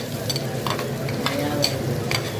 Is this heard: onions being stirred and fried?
yes